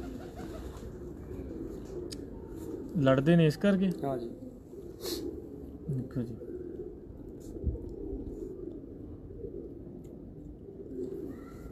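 Pigeons coo in a short, clear burst of repeated throaty calls near the microphone, mixed with lower cooing and steady background noise, while people talk over it in Punjabi and Hindi.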